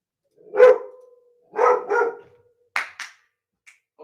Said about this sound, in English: Can't be having that barking in the background.